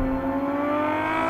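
A Ferrari 812 Superfast V12 engine revs with a steady, high-pitched tonal whine, sustained and fairly close, for a brief moment.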